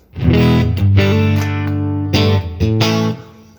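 Overdriven electric guitar chords ring out loud and sustained through an HX Stomp/Helix, with a few sharp restrikes, a compressed amp tone with no voices.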